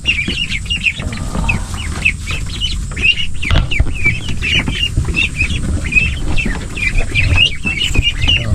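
Ducks on a small farm that also keeps pigs call over and over in a busy, overlapping chatter of short, nasal cries that carries on without pause. Nobody speaks.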